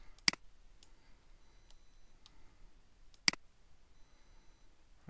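Keyboard keys pressed while laying out components in circuit design software, two sharp isolated clicks about three seconds apart with a few softer ticks between, quiet and close.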